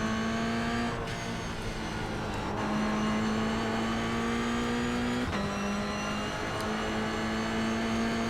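A Toyota GR86 race car engine drones steadily in a racing video game, held at high revs with brief dips at gear shifts and braking, loud and constant throughout.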